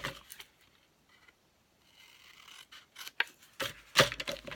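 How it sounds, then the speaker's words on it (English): Scissors snip through a paper envelope in a few quiet, irregular cuts, the crisp blade sounds separated by near silence and ending in a sharper closing snip. "I'm going to nip this part off"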